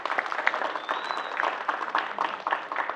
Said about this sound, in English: So another applause to...